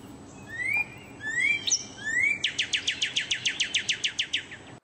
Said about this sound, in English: nature's music. You know, so listen for bird calls.